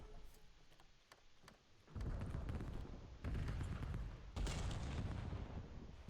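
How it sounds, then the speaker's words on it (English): Grenade explosions in an esports shooter video game, three loud booming blasts arriving one after another, each leaving a rumbling, noisy tail, near and forceful after a quieter opening. "Nobody hit with the nades."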